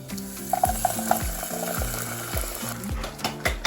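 Beans and onions fry in vegetable oil with a soft sizzle under rhythmic clinks and scrapes of a utensil stirring against the pan, close and busy for a few seconds.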